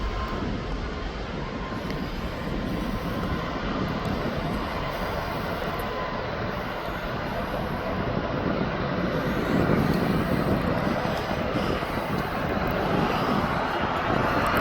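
Ryanair airliner taxiing at Birmingham Airport, a steady broadband jet engine roar heard from a distance, swelling slightly toward the end, with no talk.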